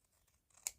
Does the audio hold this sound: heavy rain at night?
no